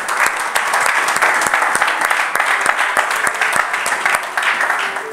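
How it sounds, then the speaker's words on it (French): A church congregation bursts into applause, dense steady clapping from many hands filling the room for several seconds, with faint voices mixed in. "Est-ce qu'on peut acclamer cette parole?"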